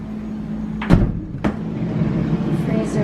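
Full-size refrigerator door in a Cabo San Lucas hotel room, two distinct clunks of the door handling and seal under a steady low appliance hum, close by, with no talk.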